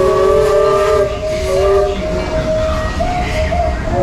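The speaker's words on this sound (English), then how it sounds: "Oh, here comes the train." A Disneyland steam train rolls past nearby with a loud, sustained steam whistle blowing in long tonal blasts over the rumble of the cars, while a steady wash of rain and crowd noise fills the background.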